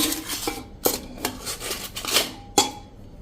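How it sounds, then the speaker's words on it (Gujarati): A metal plate clanks and scrapes as it is set onto a stand inside a pressure cooker, several sharp metallic knocks and rattles close by, alone without talk. "હવે જે આ સ્ટેન્ડ મૂક્યું છે ને એની માથે આપણે આ પ્લેટને સેટ કરી દેશું"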